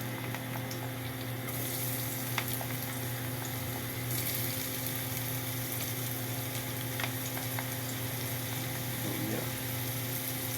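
Ginger sautéing in a hot pot, the first step of tinolang manok, gives a steady, continuous sizzle with a low background hum throughout and no voices.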